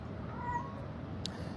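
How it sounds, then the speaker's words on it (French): A passing cat gives a brief, faint meow, slightly distant, over a low background hum, followed by a short sharp click. "Ne vous inquiétez pas, c'est un chat qui passe"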